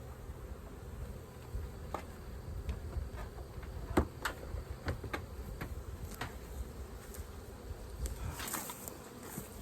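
Honeybees buzzing around the hives on a homestead, a low continuous hum with scattered clicks and light knocks over it.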